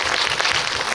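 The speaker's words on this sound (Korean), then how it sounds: "박수 주셔야 될 것 같아요." Applause from a film Q&A audience makes a dense, steady wash of clapping, loud and close, for about a second with no voices.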